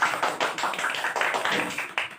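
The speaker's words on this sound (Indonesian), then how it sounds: "Ya, boleh tepuk tangan untuk Ajeng." Scattered clapping for a student during an online class comes through a call connection as a short run of uneven claps, fairly close and moderately loud, with no one talking.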